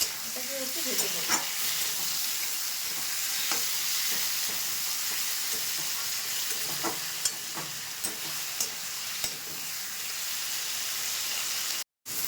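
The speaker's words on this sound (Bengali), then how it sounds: "এটাকে একটু ভেজে নেব।" A large tomato frying in a pan with already browned onions gives a steady sizzle and hiss, with occasional stirring scrapes and a brief cut near the end.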